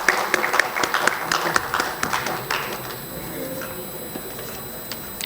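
Scattered applause from a seminar audience at a Gujarat technology exhibition in Ahmedabad: a cluster of sparse, individual claps for about three seconds that thins out and fades, leaving a quiet hall with faint background murmur.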